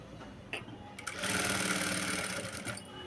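A sewing machine stitches a hand-designed blouse, whirring steadily at close range for about two seconds after a few brief starts, with no speech over it.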